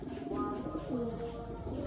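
Tournament pigeons on a rooftop coo softly in brief, low throaty warbles, faint and close, with a voice murmuring in the background.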